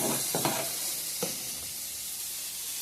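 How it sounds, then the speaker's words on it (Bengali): Leafy greens fry in a pan with dried chilli, garlic, onion and five-spice, a loud continuous hiss with a couple of sharp stirring clatters near the start, heard close with no talk. "শাক ভাজাটা এখন করব।"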